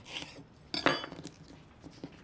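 Strips of red pepper, quartered, seeded and sliced lengthwise, drop into a pan in a home kitchen, giving a couple of quiet clinks and soft clatters of utensil against cookware.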